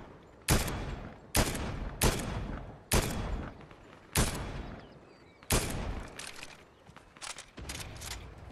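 Gunfire in the video game Fortnite: about nine sharp, loud shots in an irregular rhythm, each with a short decaying tail, fired close by with brief gaps between them.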